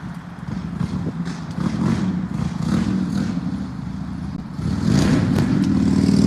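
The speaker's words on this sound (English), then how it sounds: "Never really been a motorcycle rider myself, but I like the loud whap." A loud motorcycle passes by outdoors. The engine rumbles at a moderate distance, then grows steadily louder toward the end as it draws closer, with no voices.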